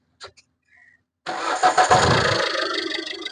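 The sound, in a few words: Maruti S-Cross 2016 car engine starting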